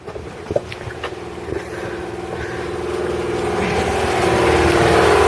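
A washing machine runs with a steady mechanical rumble and whir that builds gradually in loudness, with a few small clicks and knocks early on.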